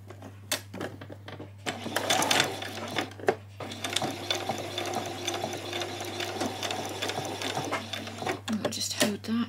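A domestic sewing machine stitches a placket on a spring skirt, whirring unevenly with clicks and pauses and a steady low hum beneath. A person speaks over the machine at times.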